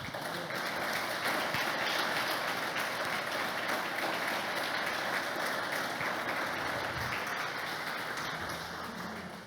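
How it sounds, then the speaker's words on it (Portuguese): A congregation at a church worship service applauds steadily, a dense, sustained wash of many hands clapping that holds fairly loud across the whole stretch before easing slightly at the end. "Se você puder aplaudir o nome do Senhor."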